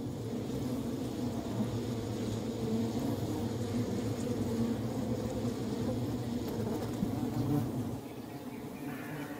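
Dense, continuous buzzing drone of many honeybees inside a wild hive colony in a forest, close and steady, easing slightly softer near the end.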